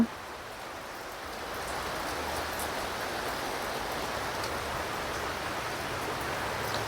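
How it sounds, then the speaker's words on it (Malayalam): Steady, dense rainfall hisses continuously, a broad even wash of drops with no voices, holding at a constant level throughout. "നല്ല മഴയാണ് ഫ്രണ്ട്സ് രാവിലെ തുടങ്ങിയ മഴയാണ്"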